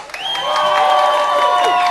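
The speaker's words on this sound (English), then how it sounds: "So give yourself a round of applause!" A comedy club audience claps and cheers loudly, with whoops rising over sustained applause for a couple of seconds.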